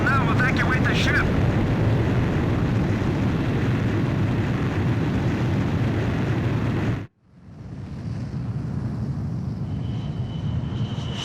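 Ace Combat 5 aircraft launched from a carrier catapult, a loud sustained jet roar that cuts off abruptly, then quieter engine rumble and hum, with a brief voice early on.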